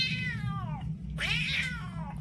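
A voice imitates a cat growling, producing two drawn-out, wavering cat-like yowls separated by a short pause, close and clear over a steady low background hum.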